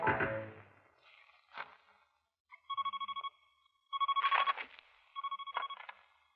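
A telephone rings in three bursts of rapid electronic trills, faint and at mid distance, with a softer sound just before them.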